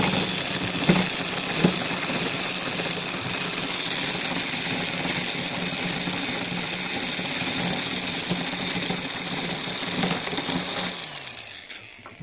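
A brush-type motor on a speed controller turns a slow gear stack for a continuous pad dye machine, giving a steady mechanical whir with faint rattling throughout, which winds down near the end.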